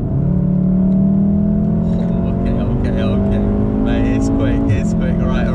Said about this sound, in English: Defo need more exhaust noise.